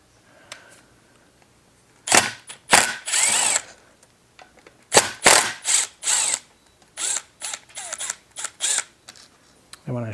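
A Troy-Bilt TB425CS string trimmer engine, fitted with a mismatched carburetor part, runs at a raised idle speed in loud, close, broken bursts with short pauses between them.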